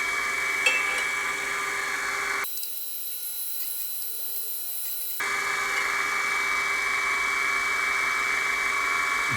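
A drill bit being ground on a sharpening machine to form four facets, a steady whining mechanical drone that cuts to near silence midway with only a high hiss, then resumes at the same even level.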